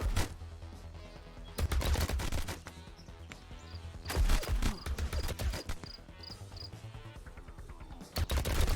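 Bursts of rapid gunfire in the game Home Behind 2, coming in several loud volleys of sharp shots separated by brief quieter gaps.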